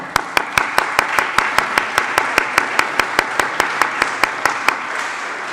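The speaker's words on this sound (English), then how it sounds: "I think a round of applause after 3 years of cooperation, even more." Applause from an audience at a sustainable ports project's final conference, a steady wash of many hands with a few sharp, evenly spaced claps standing out near the microphone, sustained for about five seconds.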